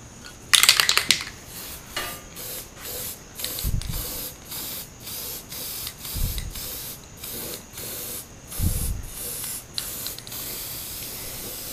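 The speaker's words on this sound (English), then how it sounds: "Somebody's gonna bitch that I sprayed it inside the motor" Aerosol spray cleaner sprayed inside a Predator 212 small engine during governor removal: a strong opening hiss followed by several shorter bursts, close and loud, with rattling handling noises between them.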